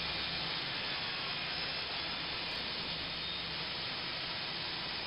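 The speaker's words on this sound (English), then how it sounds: "Steam coming off every so often." Steady broadband hiss of a butcher shop steam pod in Farming Simulator 19, running continuously and fairly loud through the whole stretch with a faint low hum underneath and no voices.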